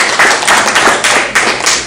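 Short burst of clapping from a small neighborhood association meeting audience, a few uneven hand claps and taps close by, lasting under two seconds.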